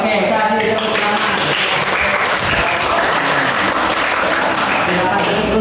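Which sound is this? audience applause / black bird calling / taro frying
audience applause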